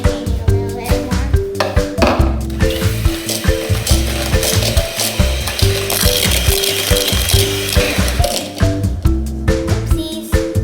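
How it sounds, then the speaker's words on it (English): An electric mixer whirs and rattles while creaming butter and sugar for rainbow cookies, a loud steady grinding with rhythmic clattering pulses throughout. "put your sugar in your butter and cream it for about 5 minutes"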